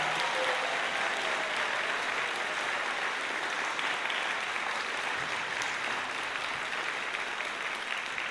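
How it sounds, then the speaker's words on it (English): An audience applauds steadily for a university high school's freshman concert band, symphonic band and wind ensemble at a fall band concert, a dense, even wash of many hands clapping that holds for about eight seconds without talk. "One more round of applause for the University High School Freshman Concert Band, Symphonic Band, and Wind Ensemble."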